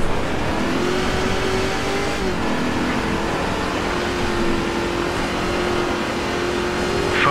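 An off-road truck engine in BAJA: Edge of Control drones and revs steadily, its pitch holding a sustained loud roar with a brief dip and climb, alone without talk.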